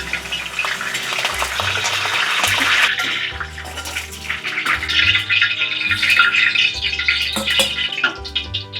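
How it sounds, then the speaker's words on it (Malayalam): Curry leaves crackle and sizzle in hot sesame oil in an uruli, a loud, steady, close frying hiss that swells and continues for nearly nine seconds with no speech. "നല്ലെണ്ണ നന്നായിട്ട് തിളച്ച് കഴിയുമ്പോൾ നമ്മൾ കരിവേപ്പില ഇടും"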